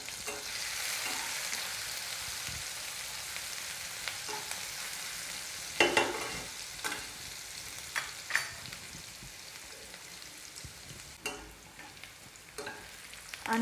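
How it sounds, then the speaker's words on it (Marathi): Garlic frying in oil for fenugreek bhaji (methi), a soft, steady sizzle with intermittent louder stirring scrapes and clinks of a spoon against the pan, close and without talk. "लसूण व्यवस्थित तेलामध्ये तळला तर भाजी खाताना खायला खूप छान लागतो"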